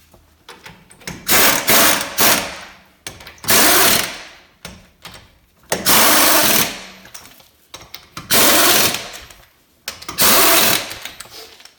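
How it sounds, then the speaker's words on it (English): An impact wrench runs lug nuts onto a 2011 Dodge Charger wheel in a garage, with loud repeated rattling bursts of a second or two, separated by brief pauses. "We're going to run them on with the impact, but we're not going to wrap on it tight."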